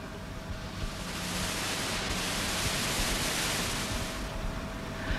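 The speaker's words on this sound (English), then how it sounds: "A more complex sound still is white noise." Steady electronically generated white noise from 1965 studio equipment, a broad even hiss that holds at constant loudness throughout with no other sounds.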